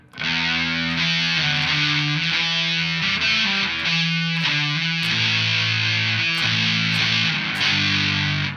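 Fuzz-distorted electric guitar plays a few power chords, each chord ringing thick and buzzy with distinct notes, loud and close with no voices.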